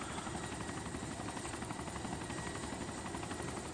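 A helicopter in the video game DayZ thumps with a steady, dense rotor chop and a broad whine, continuous and fairly close throughout, with no talking.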